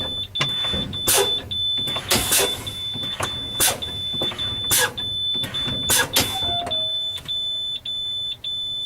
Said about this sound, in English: I'm gonna keep fanning my brake, my service brake, until both of my valves pop out.